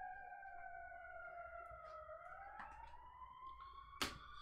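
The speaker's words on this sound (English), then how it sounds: "Sorry about the sirens, guys." Police sirens wail through a residential neighborhood, a faint distant rising and falling tone that sweeps slowly, with a brief sharp knock near the end.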